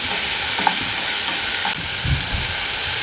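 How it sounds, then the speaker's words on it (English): A spoon stirs garlic powder into tomato sauce for pizza, a soft continuous scraping and sloshing with a couple of light clinks against the pot. "I'm going to just stir that all up."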